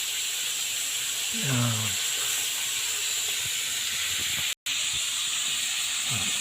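Pork liver sizzles in a frying pan with a steady, bright hiss that runs throughout, while a voice speaks briefly over it.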